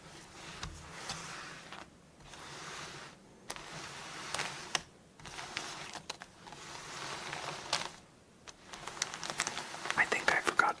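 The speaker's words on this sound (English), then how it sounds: "So let's take all the cards and shuffle again for game number 2." Playing cards riffled and shuffled by hand between rounds of a Forty Thieves solitaire variant, with soft, close papery flutters and patters in several bursts and faint whispering nearby.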